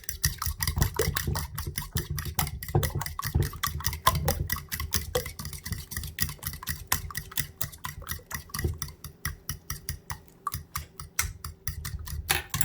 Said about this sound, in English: About a tablespoon heavy whipping cream. And then I'm going to mix it up.